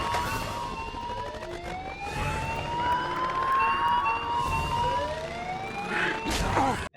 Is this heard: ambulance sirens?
yes